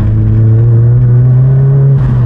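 A 300hp S3-engined Mk2 Golf GTI pulls hard from inside the cabin, its loud steady engine drone climbing slightly in pitch under acceleration before easing off near the end.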